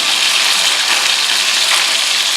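Fish frying in a hot pan, a loud, close, continuous crackling sizzle like heavy rain, steady throughout with no talking.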